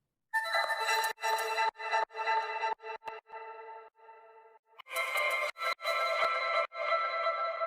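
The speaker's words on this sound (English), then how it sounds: "Pretty much just some random notes that I had played on a keyboard with a ton of reverb and a ton of delay on them." Random keyboard notes drenched in heavy reverb and delay ring out as bright, sustained tonal chords, with a dense burst early and another swell near the end that blur into long echoing tails.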